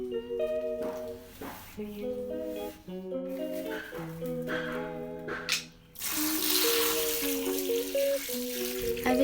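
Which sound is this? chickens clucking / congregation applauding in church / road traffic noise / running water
running water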